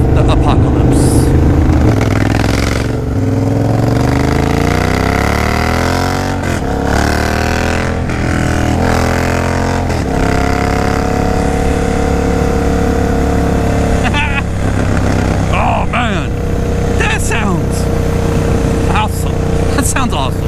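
A Triumph motorcycle engine fitted with new exhaust tips revs up and down, loud and close, with rising and falling pitch sweeps over a steady idle rumble, and a voice talks over it at times.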